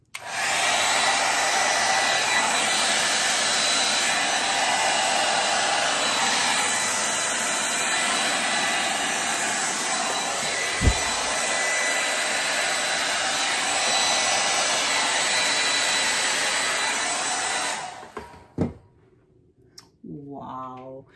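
A steady, loud whoosh of air from a blower held over a wet acrylic Dutch pour fluid-art painting, running continuously for about eighteen seconds before cutting off.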